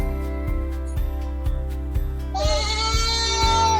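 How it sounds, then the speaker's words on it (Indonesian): Goats bleat on a livestock farm, one drawn-out wavering cry rising near the end over a steady low mechanical hum with rhythmic pulses. "ternyata ada banyak juga nih kambing nih"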